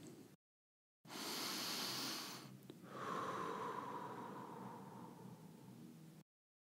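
A person draws in a long, audible breath, a sharp nasal intake followed by a steadier, softer inhale, close to the microphone with no talking.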